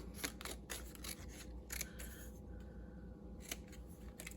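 Scissors cut through paper for a journal folder, giving a series of crisp snips close by over a constant low background hum, with no voices.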